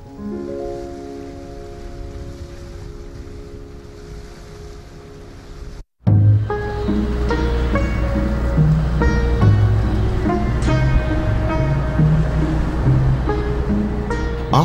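Ocean waves wash continuously during a 1955 sea voyage, first a softer rushing swell, then after a brief break a louder, fuller surge of water with musical tones playing over it.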